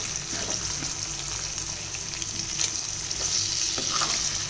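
Eggs coated in masala fry in a pan with a steady close sizzle and crackle, punctuated by soft scraping and turning sounds.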